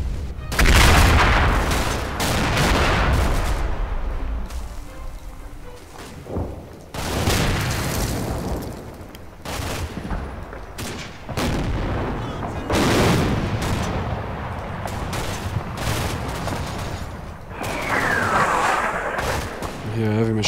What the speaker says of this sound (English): Yeah, heavy machine gun, and this is not our mortars.